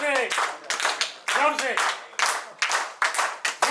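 Hands clap loudly at a 1970-71 commerce batch reunion, forming several separate bursts of applause, while a voice calls out over the clapping and laughter at close range.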